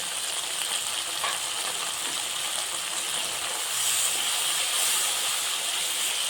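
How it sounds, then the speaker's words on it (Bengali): Turmeric, chilli powder and a little sugar fry in hot oil in a pan for a Bengali bori jhol, giving a steady, close, continuous sizzle and hiss that swells slightly toward the end, with no talking. "মশলাটা ভাজা ভাজা হলো যখন মশলাটা তেল বেরিয়ে গেছে"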